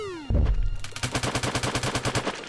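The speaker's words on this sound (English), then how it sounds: "Was that an earthquake? Explosion? I'm glad it didn't happen when I was walking across, but it sounded like some kind of cave-in." Cave-in or explosion rumble in the video game Ocean's Heart: a sudden deep boom followed by a rapid series of rattling crashes and thuds, loud and alone without speech, preceded by a falling tone.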